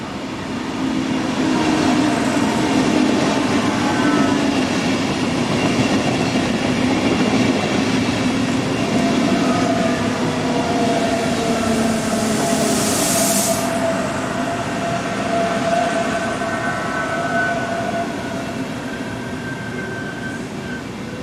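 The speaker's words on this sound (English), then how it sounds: "New Class 500 units are also seen working Geneva to Zurich trains." A Swiss Class 500 electric train on a Geneva to Zurich service rumbles steadily along the track with rhythmic wheel clatter and a brief rising whine, loud and continuous throughout.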